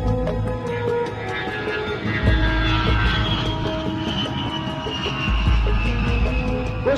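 Steady loud roar of a Tu-104 jet airliner of Aeroflot, a continuous broadband engine drone with whining tones, sustained throughout and without talk.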